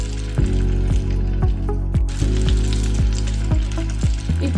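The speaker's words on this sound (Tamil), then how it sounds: "அடுத்தது வெங்காயம் போட்டுக்கணும்." Onions frying in a pan for country chicken biryani: a continuous loud sizzle with regular spatula scrapes and stirs roughly every half second, close and alone.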